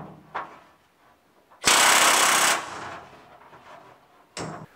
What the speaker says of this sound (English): start riveting it together for real without the wooden buck underneath